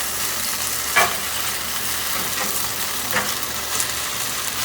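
Sauce for a tofu broccoli stir fry stirred in a pan over high heat: a constant sizzle broken by a few sharp spatula scrapes, close and alone.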